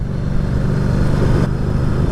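Ducati Diavel 1260S motorcycle, a 2019 model, cruising through a village, its engine giving a steady, close rumble with a slight dip partway through.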